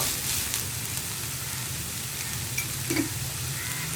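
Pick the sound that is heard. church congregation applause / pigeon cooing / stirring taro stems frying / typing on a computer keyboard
stirring taro stems frying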